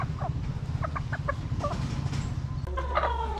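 Boston Hatch gamefowl chickens cluck in short, soft bursts from nearby, with low rustling and steady background noise underneath and no talk.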